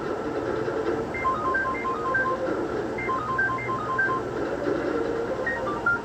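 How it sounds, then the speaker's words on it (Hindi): A phone rings in a Hindi TV drama scene, its repeating electronic ringtone melody playing in short tonal bursts over a steady background music bed, with no one speaking. "किसका फोन है?"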